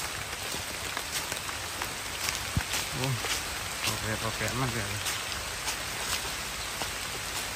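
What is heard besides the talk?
rain falling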